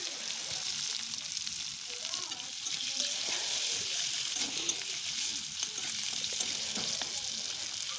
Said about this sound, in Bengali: সবগুলি আলু দিয়ে নুন হলুদ দিয়ে ভালো করে ভেজে নেব।